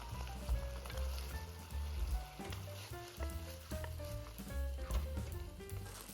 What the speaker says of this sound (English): Now add the shrimp back in. Cook everything for a minute and add cornstarch slowly.